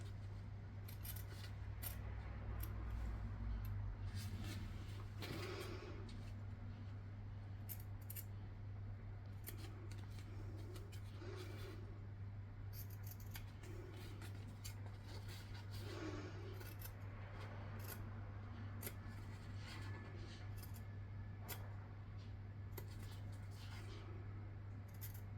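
Fabric scissors snipping a small notch into a folded pocket piece during a sewing project, quiet close cuts and rustles over a steady low background hum.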